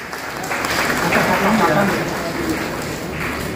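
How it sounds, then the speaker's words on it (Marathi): A crowd at a lamp-lighting ceremony for an awards event applauds in a sustained rolling patter, while an announcer's voice carries over the clapping in a reverberant hall. "आपण जोरदार टाळ्या वाजवून"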